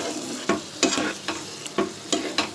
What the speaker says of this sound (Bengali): এবার মশলাটাকে একটু ভাজা ভাজা করে নিই